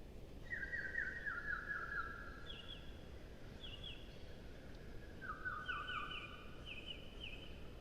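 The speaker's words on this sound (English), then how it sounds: "I actually took that big bird chirp, sampled it in Iris 2, and made that like a synth almost" A synth built from sampled bird chirps plays chordal notes: sustained, slightly warbling tones enter in staggered phrases over a dense noisy bed, moderately quiet with no voices.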